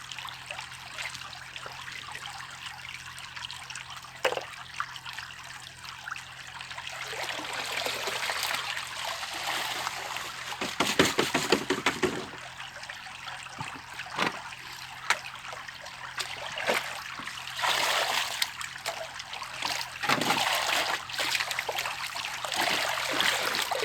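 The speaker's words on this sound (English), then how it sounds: "take my gold pan and clean it out with some water." Water rinsing out a one-piece heavy-duty plastic gold pan and stream sluice while gold prospecting outdoors, a steady close trickle and splashing running throughout with brief louder surges in the middle.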